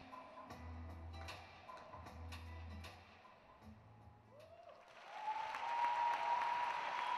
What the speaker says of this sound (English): Warm appreciation then from the crowd in the Granada Igloo.